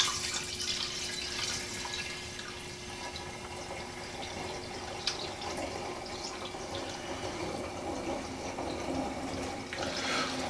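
Homebrewed Brut IPA beer is poured into a glass, a continuous soft splashing, trickling stream with faint fizzing that rises and falls for about ten seconds, close by and without talk.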